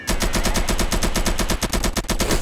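Rapid automatic gunfire in GTA San Andreas Definitive Edition: a loud, close, unbroken stream of evenly spaced shots hammering at a fast steady rhythm, with no talk over it.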